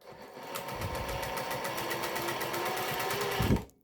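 A sewing machine runs steadily, stitching a hem seam in a fast, even mechanical chatter for about three and a half seconds before stopping abruptly.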